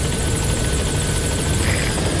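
A military helicopter named Pequod in Metal Gear Solid V approaches a landing zone, its rotor chopping loud and close in a thick, continuous drone with no voices.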